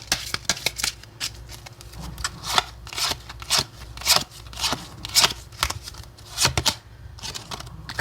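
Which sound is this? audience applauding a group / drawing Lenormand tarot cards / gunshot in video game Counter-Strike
drawing Lenormand tarot cards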